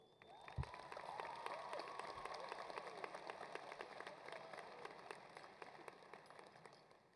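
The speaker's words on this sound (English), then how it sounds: "let's give a round of applause to the SAISD community" Graduation audience at a high school ceremony claps in a steady, moderately distant wash of applause, with a few sharper individual claps standing out before it slowly tapers.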